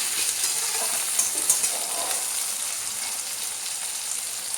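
Onion and tomato frying in oil for a crab curry, a steady close sizzle that holds throughout with faint stirring clicks and no talk.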